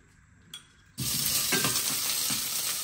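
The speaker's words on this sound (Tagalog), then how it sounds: "Igisa natin yung ating sauce." Spaghetti sauce hits a hot pan and bursts into a loud, steady sizzle that holds for a couple of seconds, with a small clink just before and faint stirring scrapes pulsing through the frying, close by and without speech.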